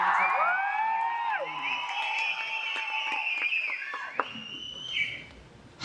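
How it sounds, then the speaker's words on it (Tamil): A crowd at the Nenjukku Needhi film audio launch event cheers, whoops and whistles loudly, with sustained shouting and piercing whistles from many people, then fading toward the end. "நல்ல கைத்தட்ட"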